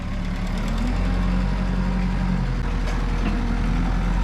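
A heavy diesel tractor engine idles steadily at close range, a constant low rumble with a faint knocking texture and no voices.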